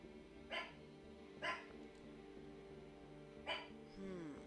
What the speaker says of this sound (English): Yes, I have dogs. Those are my hunting dogs.